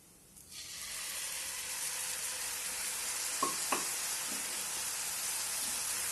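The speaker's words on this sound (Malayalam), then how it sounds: "ഈ പരുവത്തിൽ നമുക്ക് ശർക്കര ഉരുക്കിയത് ഒഴിച്ചു കൊടുക്കാം." Melted jaggery is poured into a coconut and cumin mixture in a hot pan, raising a sudden loud, broad sizzle that holds steady, with a couple of brief clinks from a utensil.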